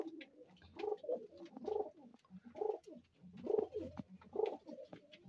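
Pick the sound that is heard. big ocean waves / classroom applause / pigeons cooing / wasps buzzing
pigeons cooing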